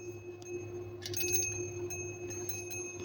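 Candle-powered Christmas chime decoration ringing softly, light metallic tings scattered over a low steady hum, with a brief brighter cluster of strikes near the middle.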